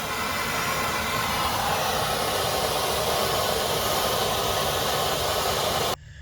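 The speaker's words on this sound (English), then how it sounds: "I brought my torch with me too. We're going to heat these fittings up." A torch heating brake line flare fittings on a 1972 C30 truck, a loud, close, steady roaring hiss that continues unbroken and cuts off near the end.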